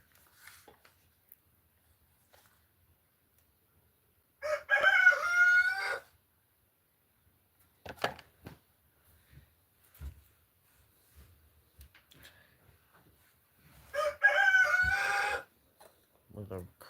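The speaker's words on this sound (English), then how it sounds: "With a crowing rooster." A rooster crows twice, each call a loud drawn-out cock-a-doodle-doo several seconds long, separated by quiet stretches with small knocks and faint room sounds.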